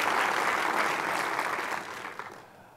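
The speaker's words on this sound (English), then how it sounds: "We should give them another round of applause" Audience applause for award recipients at a CED Berkeley event, a dense steady wash of many hands clapping that holds loud, then thins and fades out over the last second.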